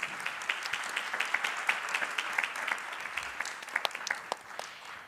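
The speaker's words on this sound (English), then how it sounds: "We can give them a round of applause for your insights." Audience applause after a panel discussion on space policy at a university network general meeting in Luxembourg, a steady spread of hand claps from a modest crowd with a few sharper individual claps standing out, fairly quiet and distant.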